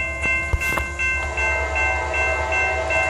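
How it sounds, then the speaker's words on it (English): A Norfolk Southern cargo train sounds its horn near a crossing in Blandon, Pennsylvania, a sustained multi-tone blast heard from a short distance over the low rumble of rolling railcars. "Look at them blowing the horn down there."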